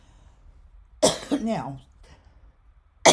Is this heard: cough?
yes